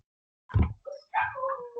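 A neighbour's dogs give a few short yelping barks and whimpers at close range, a sharp burst followed by higher, drawn-out yips.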